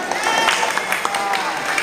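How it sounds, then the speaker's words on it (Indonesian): Crowd applause at a pencak silat award ceremony for a Setia Hati Terate youth tournament, busy clapping mixed with cheering and murmuring voices, moderately loud and reverberant. "Ya, tepuk tangan semuanya."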